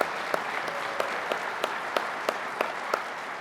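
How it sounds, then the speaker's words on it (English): Conference audience at the 2023 CBTU Conference applauding the CBTU team, a dense steady wash of clapping from a large crowd with a few sharper individual claps standing out at regular intervals. "So please, a big round of applause for the CBTU team."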